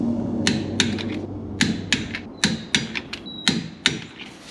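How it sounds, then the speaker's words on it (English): Torque wrench ratcheting down the four nuts on a rear axle during a limited-slip differential and gear job, sharp, close metallic clicks in short irregular bursts over a low background hum. "now we'll torque them down"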